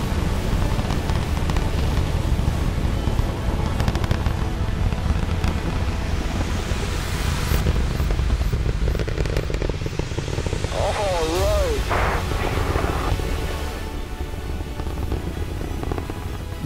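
A rocket lifting off produces a loud, continuous broadband rumble and roar that holds steady throughout, with some talk over it.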